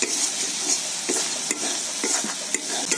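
Onions, ginger-garlic paste and spices stir-fried loudly for chicken biryani, a bright continuous sizzle with repeated scraping strokes of the spoon against the pan.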